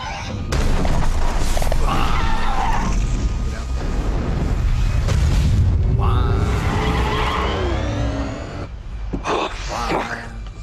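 A loud cinematic blast with rumbling debris and whooshes, mixed with shouting voices and dramatic effects.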